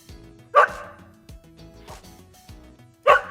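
A dog barks three times, each a loud, sharp single bark spaced a second or more apart, with quieter rustling and faint sounds between them.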